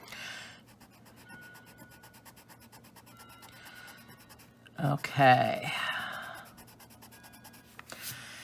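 The hard white end of a Faber-Castell Perfection eraser rubs over colored pencil on paper in soft, repeated scratchy strokes, with a brief spoken word and a burst of louder handling in the middle.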